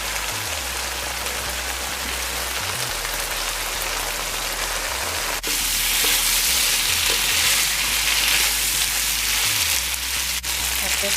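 Chicken giblets, liver and heart sizzle and fry in an uncovered pot, a steady close crackle like light rain that grows brighter and louder partway through, with no talking.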